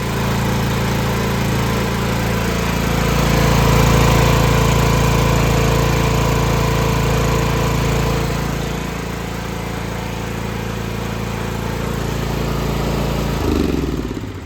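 Toro TimeCutter 42 riding mower with a 452cc engine runs steadily after a carburetor replacement, a loud continuous engine drone that holds for most of the stretch before dipping and shifting near the end.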